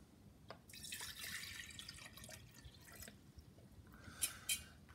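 About 500 milliliters of water is poured into a container, making a soft, quiet splashing and trickling stream that fades after a few seconds and ends with a couple of brief drips.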